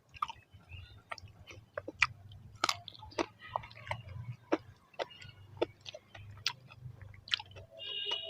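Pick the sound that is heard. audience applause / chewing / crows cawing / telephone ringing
chewing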